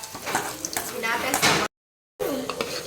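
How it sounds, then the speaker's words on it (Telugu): Chana dal and urad dal frying in a pan, a steady crackling sizzle with stirring scrapes and a voice speaking over it, broken by a brief silent gap. "వేయించుకోవాలి దీన్ని బాగా."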